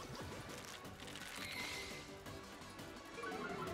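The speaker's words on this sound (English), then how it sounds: "Ice smashed." Ice smashing in a competitive video game match, a crunchy shattering crash layered over busy game sound effects and music, steady and loud throughout.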